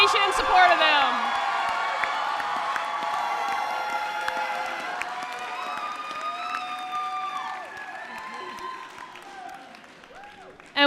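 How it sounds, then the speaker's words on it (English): Audience applause and cheering fill a college commencement ceremony as graduates face the crowd, a steady wash of clapping with whoops and shouts layered over it, while an announcer's voice carries through the hall. "with applause, indicate your appreciation and support of them"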